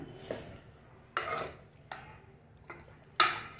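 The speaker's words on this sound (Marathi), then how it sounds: "कांद्यात चांगलं परतून घ्यायचं मटण" A spatula stirs mutton with onions in a pan for sukka mutton, making quiet, intermittent scraping clinks every second or so against the pan.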